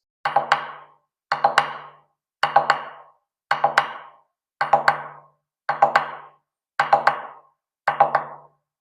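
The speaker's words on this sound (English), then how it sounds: "And played on the drum, it sounds like this." Eight evenly spaced groups of sharp struck hits on a taiko drum played with sticks, each a quick cluster of dry strokes, played alone in a steady repeating pattern.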